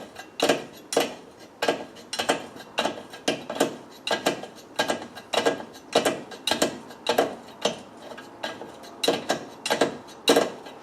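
A wrench tightens a nut on a Britpart DA2232 swing-away wheel carrier, giving a close, rhythmic series of ratcheting clicks in regular repeated pulls, about two per second, with no talk over it.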